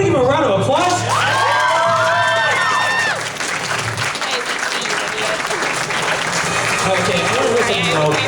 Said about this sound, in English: we gotta give him a round of applause